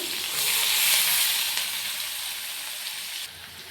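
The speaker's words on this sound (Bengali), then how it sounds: "এবারে দিয়ে নেব পেঁয়াজ কুচি। পেঁয়াজটাও লাল লাল করে ভেজে নেব।" Chopped onion hitting hot oil seasoned with black cumin (kalo jeere), a loud bright close sizzle that swells then settles into a steady hiss.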